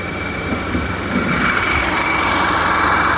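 A 2023 Nissan Almera 1.0 car engine runs steadily at idle, a low continuous hum with a faint higher whine, close by and gradually growing slightly louder.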